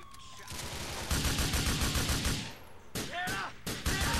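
Gunfire in Grand Theft Auto IV: dense rapid bursts of automatic shots rattle for about two seconds, then break into a few separate sharp reports with whizzing effects, loud and close, with no talking.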